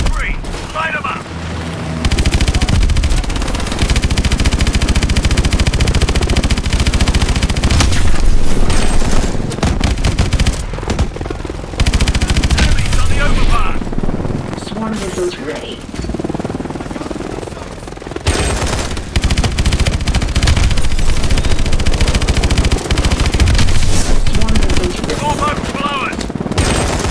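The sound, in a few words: machine gun fire in the video game Call of Duty: Advanced Warfare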